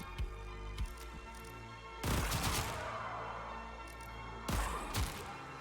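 Weapon fire in the Warframe shooter video game, several sharp shots followed by two dense, loud bursts of rapid gunfire with crashing impacts, each dying off before the next volley.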